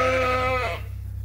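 A single sheep on a sheep farm gives a loud, wavering bleat up close, waiting hungrily to be fed, then fades to quiet background rumble.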